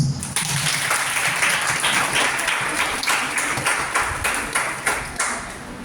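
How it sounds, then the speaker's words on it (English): Audience clapping to welcome a newly transferred Telugu professor onto the stage at a college Jayashankar birth anniversary event, steady dense applause filling the hall without a break, close and fairly loud. "let us welcome Sir with big claps"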